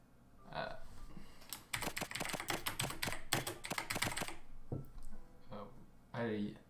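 Rapid clattering video-game keyboard typing sounds in a quick irregular burst, fairly close, with brief vocal sounds before and after.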